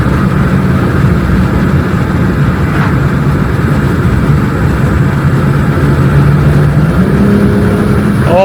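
A car engine drones steadily while driving, loud and close, with a constant low hum and road roar that barely changes throughout.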